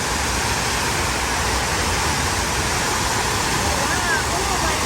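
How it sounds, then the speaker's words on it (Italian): At the 9/11 memorial fountains in New York, water rushes in a dense, constant roar without a break. It sounds loud and near, and talk is hard to pick out under it. "Tutto questo frastuono, questo scroscio d'acqua, penso stia a simboleggiare qualcosa."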